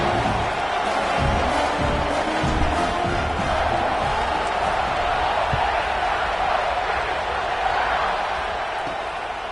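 A football stadium crowd roars at a kickoff right after a touchdown, a dense, continuous wash of cheering that holds steady throughout.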